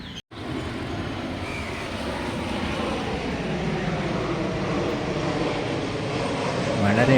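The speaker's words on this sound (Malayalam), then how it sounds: "വളരെ അടുത്തായി ഒരു ഫ്ലൈറ്റ് പോകുന്നത് കാണാം." A fixed-wing airplane passes low and close near temples in Thiruvananthapuram, Kerala, its steady engine roar filling the clip and swelling slightly toward the end after a brief dropout at the start.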